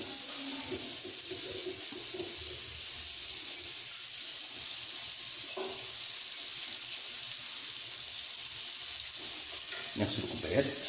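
Tea glasses and a spoon being washed in a sink, with steady running water and splashing throughout and occasional faint clinks.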